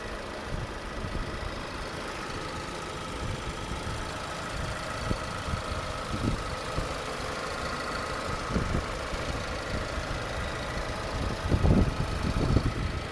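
A 2019 Kia Soul engine idles steadily with a low, even mechanical hum and faint ticking, a few louder knocks and clatters near the end.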